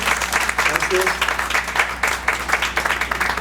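Applause from the audience at a university conversation event, dense steady clapping sustained across the clip with no pauses and some speech mixed in underneath.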